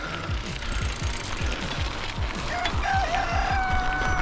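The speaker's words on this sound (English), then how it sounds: "Cock-a-doodle-doo." At a wild tarp camp, a rooster's drawn-out crow rises over a steady run of low rhythmic clucking pulses, moderately distant.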